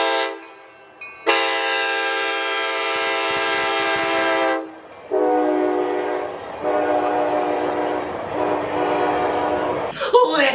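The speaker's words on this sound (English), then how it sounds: "Ace has a fleet of some of the best K5LA horns I have ever heard" An ACE train sounds its K5LA horn in two long, loud, chord-rich blasts, the first held for several seconds and the second after a brief pause, with rail rumble beneath.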